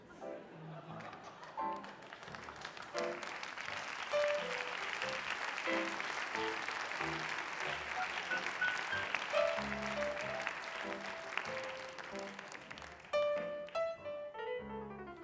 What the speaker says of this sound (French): Vous applaudissez, certes